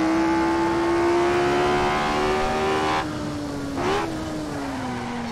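Race car in Assetto Corsa with its engine whining steadily, then the pitch drops as the wheels lock under braking, with a brief skid burst and engine blip before the tone settles lower; close and loud, no voices.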